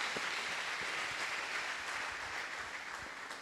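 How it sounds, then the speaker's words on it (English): A church congregation claps for Jesus at the close of a prayer in a Christmas service, a soft, steady wash of many hands heard at a distance, without speech over it. "Shall we clap for Jesus?"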